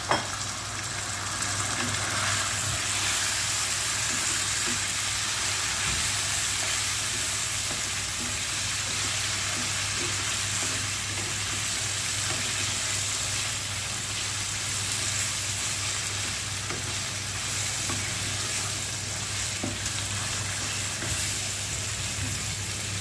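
Chicken pieces frying with garlic in a pan, a steady loud sizzle holding throughout with occasional stirring clicks and no talk.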